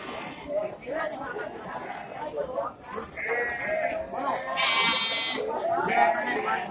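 Merino and Texel sheep bleat repeatedly at a livestock market, with several wavering, nasal cries standing out amid busy crowd chatter and people talking close by.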